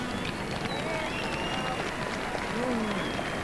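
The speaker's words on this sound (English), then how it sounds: "So there'll be applause here" Crowd applause at a 1989 rugby union match between Leinster and the New Zealand All Blacks, a steady broad wash of clapping and stadium noise with a commentator's voice running over it.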